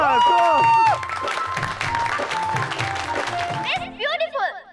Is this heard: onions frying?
no